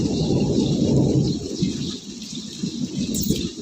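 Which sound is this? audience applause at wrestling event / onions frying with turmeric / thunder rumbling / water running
thunder rumbling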